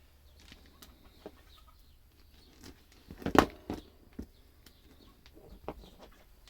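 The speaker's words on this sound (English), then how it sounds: "So if you hear chicken noises, it's because my chickens are free and running around." Free-range chickens roam nearby, giving faint scattered clucks and a short burst of louder squawking or wing flapping partway through, against a quiet indoor background.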